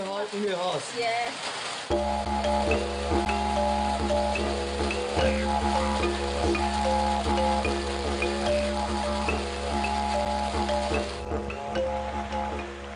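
Heavy rain downpour in Liberia, a steady dense hiss of falling rain over a constant low hum, loud and continuous, with a sharp shift in the first two seconds before the rain settles in.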